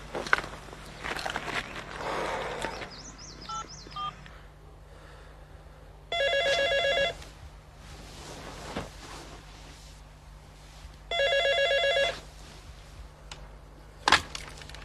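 Telephone ringing indoors in two separate bursts of electronic trilling, each about a second long, separated by quiet room sound with faint footsteps and small knocks, and a sharp click at the end.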